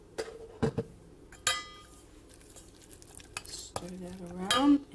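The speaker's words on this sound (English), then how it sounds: "Stir that around" Mayonnaise being stirred into tuna salad in a bowl, with scattered utensil clinks and scraping strokes, a few sharp knocks against the dish and quieter soft mixing between them, no talk.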